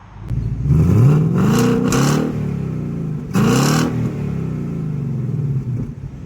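A 2020 Ford Mustang GT engine in Sport Plus mode revs twice in sharp bursts, rising to a throaty roar and dropping back to a rumbling idle between pushes, close and loud.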